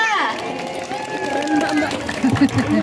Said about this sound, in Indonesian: Tepuk tangan dulu dong, sahabat satwa.